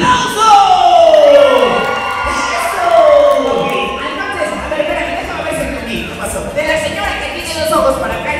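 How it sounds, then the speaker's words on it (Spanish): Crowd at a live children's show shouting, whooping and cheering loudly, with a voice calling out over the noise. "gritos y aplausos"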